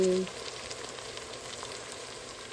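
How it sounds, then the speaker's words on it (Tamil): Potatoes fry in a pan with cooking oil, a soft, steady sizzle that continues evenly after a brief louder start. "இப்போ உருளைக்கிழங்கு போட்டாச்சு, வதங்கட்டும்."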